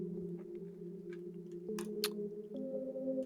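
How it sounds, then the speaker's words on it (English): Low, horror-style FM8 synth pluck preset called Telepath plays sustained dark tones alone, shifting pitch partway and stepping up an octave near the end, with a couple of brief bright noisy bursts in the middle. "we have the FM8 Spoop Pluck, which is a preset, I'm pretty sure, yes, called Telepath."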